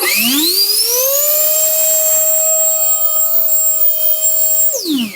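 A power tool running on a repacked 18650 Makita battery spins up quickly to a steady, loud, high-pitched whine, holds at maximum speed for several seconds, then winds down abruptly.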